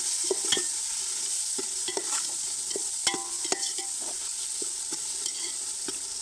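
Masala with green chillies for chicken dum biryani sautéing in a pan: steady sizzle under repeated rhythmic spatula scrapes and taps, close and alone with no voices.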